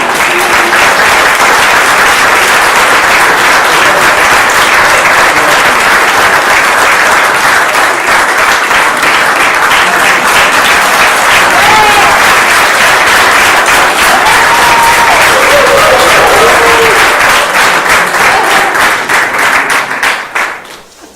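Wedding guests break into loud, sustained applause after the couple kisses at a civil ceremony, with clapping filling the room for about twenty seconds before fading.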